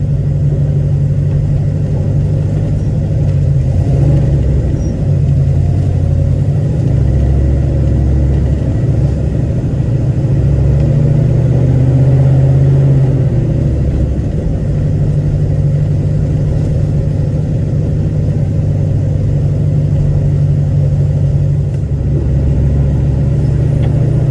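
A 1972 Chevrolet Nova's engine runs steadily with a deep, close low rumble while the car drives and makes a slow turnaround, with mild swells in engine speed and no talking.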